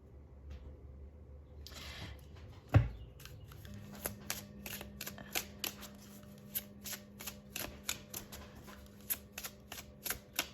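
Tarot cards are shuffled close up with a quick riffle, then a steady series of soft slaps and flicks as cards are cut and dropped together, fairly quiet, with a faint hum behind and no talk.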